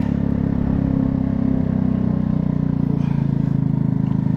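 A PMZ50, a Honda Grom clone motorcycle recovered after theft and in need of major work, runs with a loud, steady engine drone that holds at a continuous idle throughout, with no voices over it.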